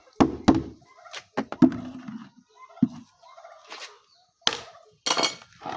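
Organically raised laying chickens on a farm, about to be fed papaya, give scattered clucks and squawks mixed with a few sharp knocks. The calls come in uneven bursts at moderate distance, with no talking.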